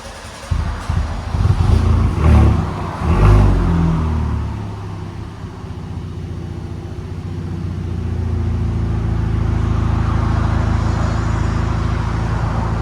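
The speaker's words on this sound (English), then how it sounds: "A-R-K catback system. Here we go. And it turned on." A 2018 Kia Stinger 2.0 Turbo with an ARK catback exhaust fires up with a loud starter crank and throaty burst, then drops into a steady, deep idle rumble close by, with no voices.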